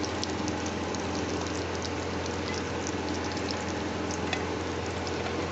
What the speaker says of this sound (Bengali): আমি একবারে ডিপ ফ্রাই করছি না, ডিপ ফ্রাই করলে এত তেলের পেটের অসুবিধা হয়ে যাবে, সেই জন্য আমি এই অল্প তেল দিয়ে করে নিচ্ছি।